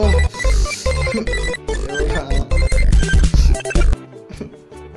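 A phone ringtone plays loudly in short rhythmic bursts, then cuts off near the end.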